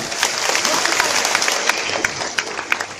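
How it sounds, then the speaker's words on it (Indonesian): Audience at a Mayasari Plaza gathering applauding for Mayasari, a steady dense burst of many hands clapping at close range for three seconds, with faint voices mixed in. "Tepuk tangan sekali buat Mayasa."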